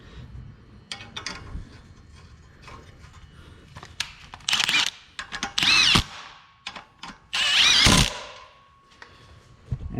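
A power tool tightens catalytic converter bolts on a 2018 GMC Acadia in several short whirring bursts. The two longest bursts are loud and sit near the end, with clinks and rattles between them.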